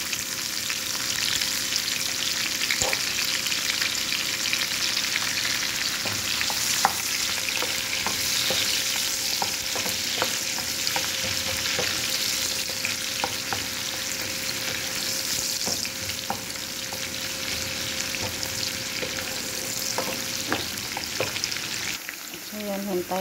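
Onions sizzle steadily in a hot pan with carrots alongside, a dense, even crackle that holds for the whole stretch, broken by occasional soft stirring clicks and scrapes. No one speaks.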